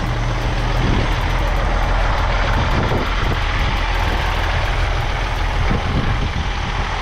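A car-hauling truck loaded with vehicles, including a Dodge Durango, idles nearby in Georgia, giving a loud, continuous, rumbling drone with a few brief rattles and rises over the steady engine note.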